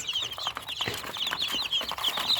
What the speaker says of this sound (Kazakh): Балапандардың ішінде бройлер, брам, жай тауықтар бар.